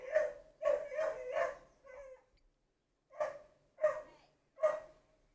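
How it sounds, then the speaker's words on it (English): A dog barks outdoors in two quick bursts: three or four barks close together, a pause, then three more evenly spaced barks. The barks are clear and moderately near, with no talk over them. "Dog going crazy outside."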